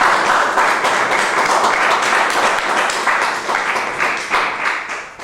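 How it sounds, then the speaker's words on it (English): Sustained applause from an audience honoring ministers at a Nation of Islam gathering, dense steady clapping filling the room at full volume throughout with no speech over it. "Let's give our brother ministers another round of applause"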